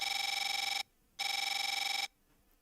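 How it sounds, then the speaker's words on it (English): Telephone ringing in the video game Snoot Mod, two long electronic trilling rings separated by a short pause, loud and clear with nothing else over it. "That phone works? It's the first time I heard it ring."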